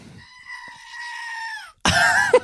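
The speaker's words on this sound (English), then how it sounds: "We're also not sponsored by the Screaming Goat." A Screaming Goat novelty toy gives two bursts: a long, thin bleating wail, then after a short gap a louder, harsher scream that cuts off abruptly.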